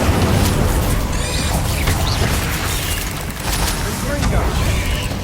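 Incendio fire spell cast in Hogwarts Legacy, heard as a dense, loud burst of booming, crackling combat noise that runs steadily throughout with overlapping impacts, and a voice speaks over it.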